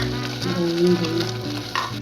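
Sweet broken-wheat lapshi being stirred in a pan over a gas flame with sugar and cardamom, a close, steady scraping and swishing with a soft sizzle underneath, no voices.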